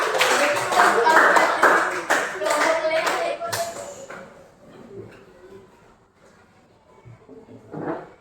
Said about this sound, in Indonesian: berikan aplaus untuk kelompok 2